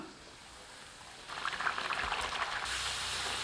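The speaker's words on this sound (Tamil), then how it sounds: "எண்ணெய் காஞ்சிருச்சு சுட்டு எடுத்துக்கலாம் பூரிக்கு நல்லா எண்ணெய் காஞ்சிருக்கணும்" Poori made from multigrain wheat atta frying in well-heated oil, a broadband sizzle that swells suddenly partway through and keeps crackling steadily, close and fairly loud, with no talk.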